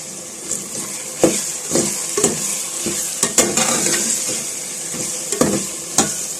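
Chicken and vegetables stir-fry with finely chopped green chillies, sizzling steadily in a pan while a utensil scrapes and clatters against the metal in irregular strokes, close and fairly loud.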